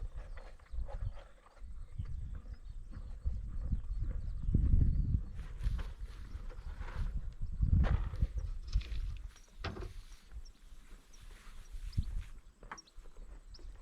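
A horse shifts and steps close by while being fitted with a heavier saddle, hooves thudding and clopping irregularly on the ground amid rustling and creaking of tack, with no talking.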